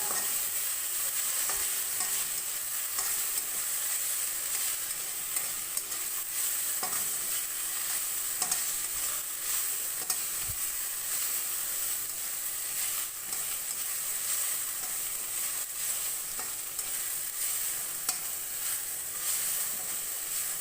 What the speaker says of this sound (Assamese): আকৌ এবাৰ এনেকৈ লৰাই দিব ভালকৈ।